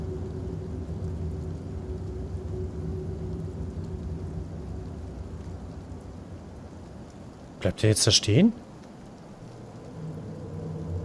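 In the video game Fears to Fathom, steady rain and a thunderstorm rumble continuously in the background, with a brief louder crack partway through, while a person talks over it.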